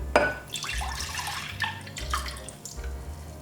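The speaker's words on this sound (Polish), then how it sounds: "Teraz do rondelka wlewamy nasze mleko, tego samego rondelka, w którym gotowaliśmy karmel." Milk is poured into a small saucepan, the same one used to cook caramel for a Japanese custard pudding, giving a close liquid splash that settles into gentle uneven trickling and dripping.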